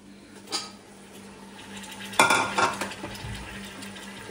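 Tomatoes are stirred in a sizzling pan for chicken masala, with a spoon scraping and clinking against the metal, including a burst of louder scrapes midway over a soft frying hiss.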